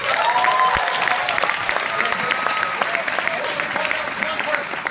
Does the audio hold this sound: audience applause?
yes